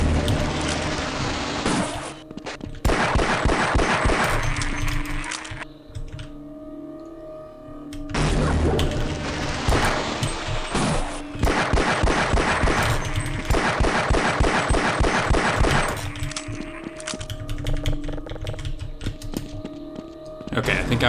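Rapid machine gun bursts from the video game Half-Life: Decay, loud and repeated in several long volleys separated by short pauses, with a low hum between.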